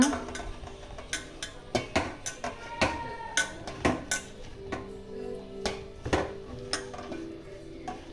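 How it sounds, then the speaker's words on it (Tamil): Fish is mixed with vinegar and rice flour in a bowl, making a string of irregular clinks and taps of utensil against the bowl, fairly close and moderately quiet, with no talking. "அப்புறம் ரைஸ் பவுடர், அரிசி மாவு கொஞ்சம் கலந்துக்கோங்க. நல்லா மிக்ஸ் பண்ணிக்கோங்க."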